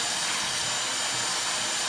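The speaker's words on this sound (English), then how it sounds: "I'll use the cooling feature on my blow dryer and just hit it with a cold shock" A blow dryer on its cold setting roars steadily and loudly at close range, a constant broadband rush of air aimed at the hair and a round brush.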